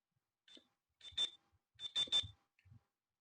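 A talking watch in time-adjust mode gives a short run of sharp electronic beeps, a brief opening tone followed by a tight cluster of three quick bleeps, close and clear against silence.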